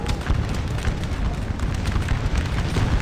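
Deep, rumbling booms roll continuously from massed cannon fire on a Napoleonic Waterloo battlefield in a war strategy game, dense and loud throughout with overlapping low blasts and no clear gaps.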